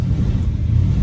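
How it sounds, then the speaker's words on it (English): A 1968 Ford Mustang Fastback S Code 390 GT with a four-speed idles, a loud deep steady rumble from the running V8 engine, heard close from inside the car. "Car starts right up."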